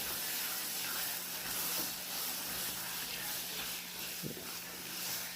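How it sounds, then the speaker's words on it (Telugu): Boiled white beans tipped into sizzling fried masala in a pan, giving a steady, fairly quiet hiss and crackle with a brief louder splash near the end. "ఇప్పుడు ఏం చేస్తామంటే ఈ ఉడకపెట్టుకొని బీన్స్ పిక్కలు ఇవి వేసేయాలి"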